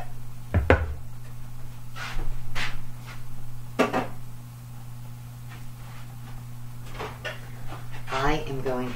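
A metal meatloaf pan with a lift-out tray is handled in a kitchen, a few sharp metallic clanks and knocks spaced over several seconds, with a steady electrical hum beneath and someone speaking briefly near the end.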